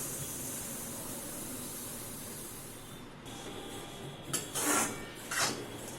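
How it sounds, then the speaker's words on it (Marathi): Sesame seeds dry-roasting in a pan for tilgul ladoo, a steady sizzling hiss running throughout, with a few brighter scraping stirs of the seeds near the end. "प्रथम आपण तीळ भाजून घेऊया"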